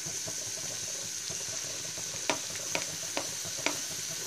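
Carrots and bell peppers fry lightly in a pan with ginger, garlic and green chili. A steady hiss is broken by a few sharp spatula scrapes toward the end, close up and with no talking.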